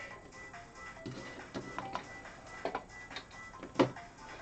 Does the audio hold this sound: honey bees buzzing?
no